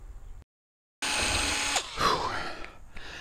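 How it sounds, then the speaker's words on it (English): Power drill boring through the trailing edge skin of an RV-10 aircraft flap, a steady close whine that cuts out briefly and then resumes loud and sustained, with shifting pitch near the end as the bit works through the metal. "when you're drilling your trailing edges, you want to keep those straight, you want to keep them clean"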